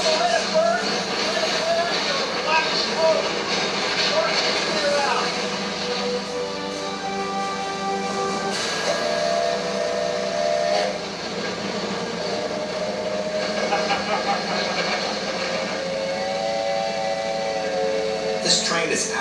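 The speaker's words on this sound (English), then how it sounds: "This train is absolutely fascinating." The Mount Washington Cog Railway train, built on technology dating back to 1869, runs with a sustained mechanical drone and a whining, whistle-like tone that rises and falls.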